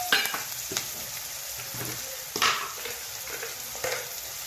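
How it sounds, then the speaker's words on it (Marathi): Peanuts fry and sizzle in a pan as poha is being made, with a steady crackle broken by a few scraping stirs of the spoon near the mic; no one speaks. "मग शेंगदाणा टाकायचे आणि नंतर त्याला हलवून घ्यायचं"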